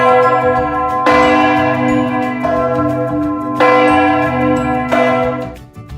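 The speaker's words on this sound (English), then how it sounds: "It was 12 noon and the bell was ringing" A large church bell in Geneva, Switzerland tolls at noon in slow, steady strokes about every one and a half seconds, each ring resonant and sustained, overlapping into a continuous metallic hum.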